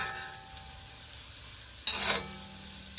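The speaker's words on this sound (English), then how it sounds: "So my onions have cooked some up a little bit, and they're getting a little wilted." Onions sizzle in a pan as they soften for a crab curry, a quiet steady frying hiss with a couple of brief louder bursts of stirring near the end.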